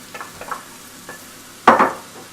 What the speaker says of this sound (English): Next we're going to tip in our celery